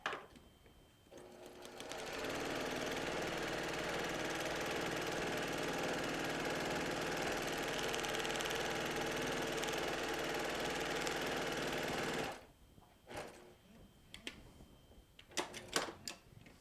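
Sewing machine stitching a log cabin quilt pattern with a quarter-inch seam, a steady fast mechanical whir for about ten seconds, then stopping into quiet handling clicks.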